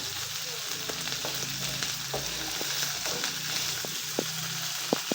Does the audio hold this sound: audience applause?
no